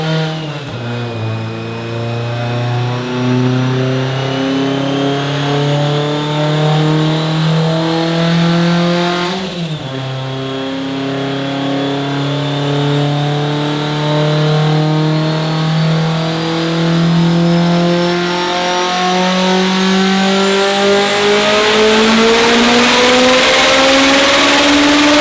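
A Subaru STi with a big turbo running 45 psi of boost revs hard and loud, its engine note rising steadily in long sweeping pulls with a brief dip midway, sustained close up for the whole stretch.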